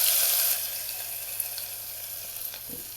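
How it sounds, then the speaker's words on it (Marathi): Cumin, mustard seeds, asafoetida, coconut and garlic sizzle in hot oil as a tempering for homemade varan; a loud, close, hissing fry fades slightly and then settles into a steady crackle, with a few small pops. "जिरी मोहरी टाकली की चिमटभर हिंग टाकणार आहे टाकणार आहे आणि हे खोबरं लसूण कुठल्याला ही पण तेलात टाकणार आहे"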